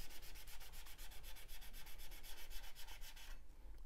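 A blade's very tip is stroked across a 10,000 grit stone in quick, even rubbing passes, a soft steady scraping that stops just before the end.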